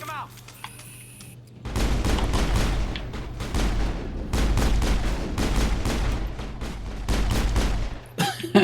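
Sustained gunfire in Mass Effect 3 on the Citadel, dense rapid shots and heavy thuds rolling on for several seconds over a low rumble, with a voice speaking at times.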